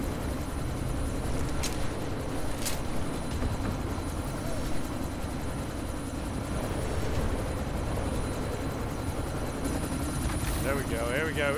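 A helicopter in the video game Deus Ex: Mankind Divided, a steady loud rotor and engine drone filling the whole stretch with brief higher tonal blips near the end.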